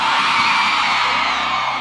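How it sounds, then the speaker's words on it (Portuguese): Single women in the audience of a live band show scream and cheer together, a loud sustained crowd roar of high-pitched yells that stays steady throughout, with no one speaking. "Cadê o grito das solteiras?"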